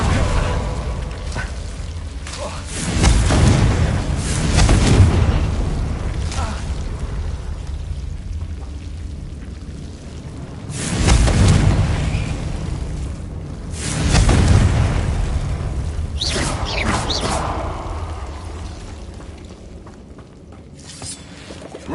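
Confringo blasting spell explosions in the Hogwarts video game: several deep, booming bursts spaced several seconds apart, each swelling and fading with low rumble, loud and close.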